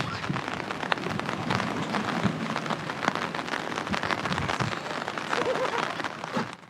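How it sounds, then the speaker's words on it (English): Soft, steady rain patters on a surface nearby, with scattered sharper drops ticking through the continuous hiss. "Unfortunately it's raining."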